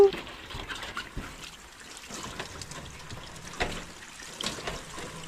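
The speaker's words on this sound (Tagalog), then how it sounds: "finally dumating na yung ating tubig" Water from a dug spring trickles and splashes steadily out of a pipe at a low level, a thin flowing sound with faint voices in the background.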